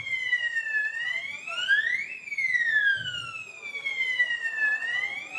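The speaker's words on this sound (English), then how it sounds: "Fire alarm." Wailing fire alarm siren during an alumnae association inaugural ceremony, sweeping slowly up and down in pitch, loud and continuous, with a voice briefly heard under it.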